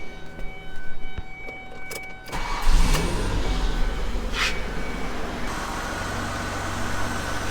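A Ford Escape engine with a high-idle fault starts with a burst and then idles steadily, a constant low rumble with a faint whine, heard close and without speech.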